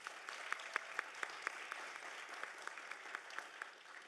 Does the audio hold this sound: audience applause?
yes